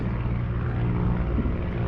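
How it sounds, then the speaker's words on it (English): Propeller-driven Mentor trainer planes lift off at an airshow, giving a steady, loud, droning engine roar with a dense low rumble that holds evenly throughout, with no voices. "as the Mentors take flight, their landing gear will actually be tracked"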